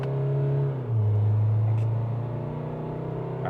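An Isuzu MU-X with the 2.2-litre MAXFORCE diesel engine accelerates hard in manual gear mode, a loud steady drone heard from inside the cabin that dips briefly at a gear change and then climbs again.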